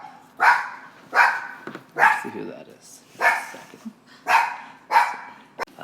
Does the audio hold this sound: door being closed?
no